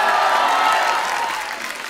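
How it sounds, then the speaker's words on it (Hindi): Studio audience at a Hindi comedy talk show bursting into loud sustained applause, dense clapping that fades slightly toward the end. "पहले तो इनके लिए जोरदार तालियां बनती।"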